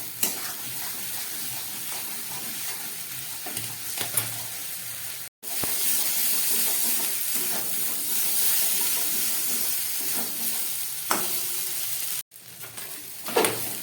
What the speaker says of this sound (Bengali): আমি আলুর সঙ্গে সমস্ত মশলাটাকে কষিয়ে নিচ্ছি